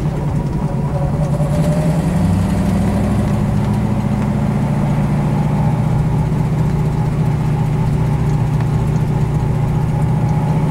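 1967 Ford Mustang GT500 with a new cam, its engine droning steadily and loudly while driving, pulling hard through the upper gears with a deep, continuous rumble.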